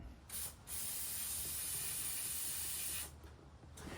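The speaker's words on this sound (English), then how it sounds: "We're going to be spraying this off, all these tabs here, cleaning the gear up" Cleaner sprayed onto a GX470 differential actuator's gear and tabs: a close, faint aerosol hiss with a brief spurt, then a sustained spray of about two seconds, heard alone.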